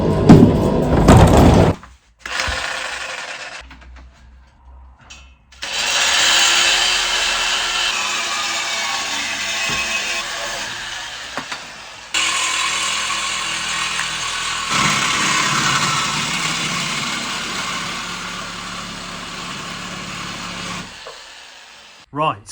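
Cutting through a Land Rover Series 3 exhaust pipe with a metal blade in a garage gives a loud, steady rasping power-tool noise that starts and stops in several long bursts.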